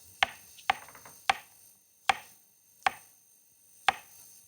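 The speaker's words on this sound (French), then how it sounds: "On va couper un peu de champignons." Six sharp knife chops through mushrooms on a cutting board, crisp and close, spaced irregularly about a second apart with quiet between.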